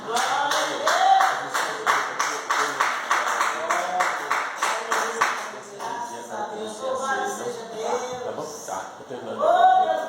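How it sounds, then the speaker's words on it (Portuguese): A group claps hands in a steady rhythmic beat during a Christian worship service, mixed with voices singing or calling out over the clapping. "As palmas para Jesus"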